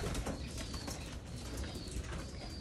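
Soft cooing of young pigeons mixed with a steady rustling, busy background noise, with faint flutters and chirps close by.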